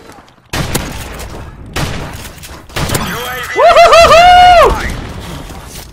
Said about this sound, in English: Oh, the shotgun is still badass.